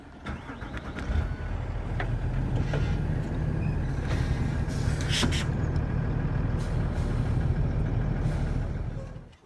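A tour bus in Denali National Park rumbles steadily with a loud, close engine drone as it moves on, with brief hissing bursts of air brakes partway through before the noise tapers off.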